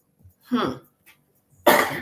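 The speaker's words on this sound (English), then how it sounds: "Still got this little cough." A single throaty cough, close and fairly loud, between brief moments of silence, followed by the start of speech.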